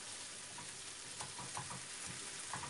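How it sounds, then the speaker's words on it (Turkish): Garlic sizzles steadily in a hot pan while being stirred for a Turkish purslane dish, with a continuous close frying crackle and a few soft spoon scrapes and clicks, no talking. "Şimdi biraz da sarımsağımı kavuracağım. Şöyle bir iki de böyle döndüreceğim."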